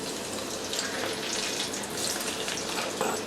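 Thin potato strips dropped into hot oil in a kadai fry with a steady, dense hiss and crackle that holds evenly throughout, close up with no talking.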